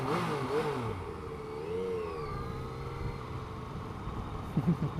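A 2015 Yamaha FJ-09 (Tracer) motorcycle engine revs and climbs in pitch, whining up and easing back, heard steadily from nearby with road noise beneath.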